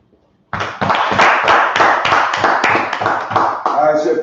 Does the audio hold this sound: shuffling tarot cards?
no